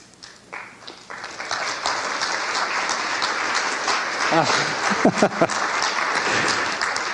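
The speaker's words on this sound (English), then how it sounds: "All those who are clapping" An audience at a lecture on water fluoridation breaks into applause that builds from scattered claps to a steady, fairly loud ovation, with a few brief voices or cheers rising through it toward the end.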